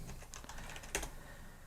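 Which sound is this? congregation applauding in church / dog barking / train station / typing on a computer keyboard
typing on a computer keyboard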